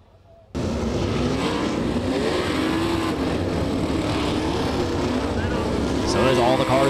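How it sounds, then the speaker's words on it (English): 360 sprint race car engines refire and idle at Lake Ozark Speedway, a loud, steady droning roar that kicks in abruptly after a quiet start and swells slightly near the end, with a voice speaking over it. "So as all the cars able to get refired, they're going to form the field right over there"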